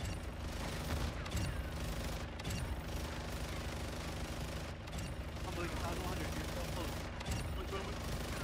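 Rapid automatic gunfire in Modern Warfare 2 on the Shipment map, dense bursts of shots and impacts layered over a chaotic firefight, with a voice talking over the action.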